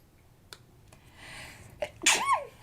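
A single sharp sneeze bursts out near the mic, loud and brief, with a soft breath and faint rustle before it in an otherwise quiet room.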